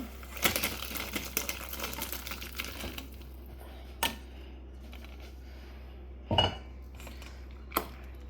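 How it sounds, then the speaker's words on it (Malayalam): Boiled potatoes being tipped from a pot into a metal strainer make a clattering rush of pouring and knocking, followed by a few sharp isolated clanks of the pot and strainer against each other, close and fairly loud, with no talking. "ഞാനത് ഈ ഒരു സ്ട്രെയിനറിലേക്ക് ഒഴിച്ചു കൊടുക്കാം"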